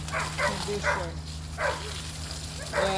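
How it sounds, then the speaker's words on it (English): A neighbour's dog barks in a garden, several sharp barks spaced across a few seconds under a steady low hum, with a person briefly talking. "That's the neighbor's dog barking."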